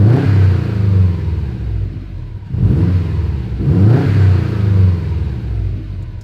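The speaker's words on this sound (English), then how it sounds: "let's let it warm up a little bit, give it some revs, and see how she sounds." A Subaru STI engine with an aftermarket exhaust revs hard twice with a deep, throaty exhaust rumble, rising and falling close by, with a low idle between the pulls.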